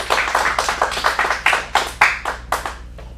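A small audience at a kids' acting showcase at Dearing Acting Studio in Phoenix claps in a brief, uneven burst of close handclaps that tapers off.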